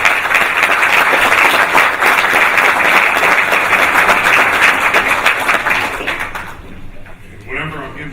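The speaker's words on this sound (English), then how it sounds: "Let's give them a round of applause." A loud, dense round of applause for graduates at a 2019 O'Connell College Preparatory School ceremony, sustained crowd clapping that tapers off near the end as a voice begins.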